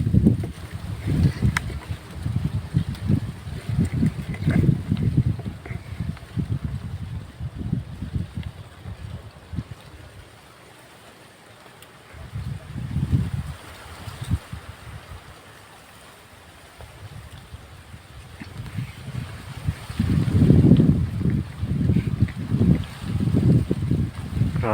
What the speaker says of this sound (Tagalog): Grabe yung hangin mga idol.